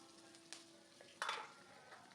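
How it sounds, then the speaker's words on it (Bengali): Chopped onions and green chilies frying in oil for a pangas fish bhuna, a faint low sizzle with a steady hum and two brief louder bursts of crackling and stirring. "এবার পেঁয়াজ মরিচগুলো একটু ভেজে নেব"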